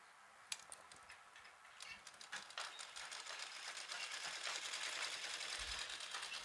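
A sewing machine stitches along the folded edge of fabric for a small potli drawstring bag made from leftover cloth, a quiet, steady run of rapid ticking needle strokes that grows slightly louder toward the end, with no talking.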